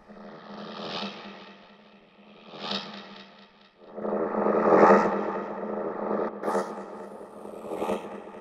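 Drum hits from a Roland JD-Xi synthesizer run through fuzz distortion, a few booming, roaring hits with heavy reverb tails, the later ones louder and more saturated; no talking.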